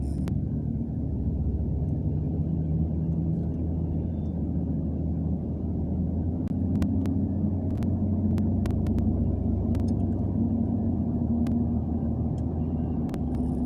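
Steady low rumble inside a moving truck cab on a winter homestead drive, a constant engine and road drone filling the cabin with a few faint clicks and no talking.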